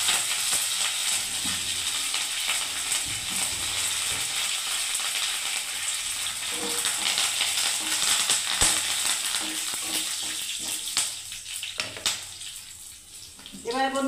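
Curry leaves and black pepper dropped into hot oil for lemon rice, giving a loud, continuous sizzle and crackle with sharp pops and occasional clinks of a utensil, easing off near the end.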